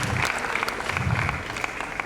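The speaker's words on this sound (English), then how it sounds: "there we see the crowd getting behind the Indian" A squash crowd at the CCI International 2017 final, Saurav Ghosal versus Nicolas Muller, claps loudly and continuously to back the Indian player, a dense, even burst of applause throughout.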